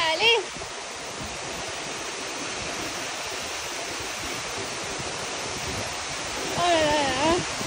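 A waterfall in Laos roars as a steady, dense rush of falling water close by, and brief voices come and go at the start and near the end.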